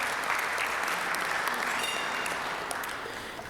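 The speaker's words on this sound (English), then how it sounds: "So let's give a round of applause for our Rotarian birthdays." A room full of people at a Rotary meeting claps steadily, the applause holding briefly before tapering off toward the end.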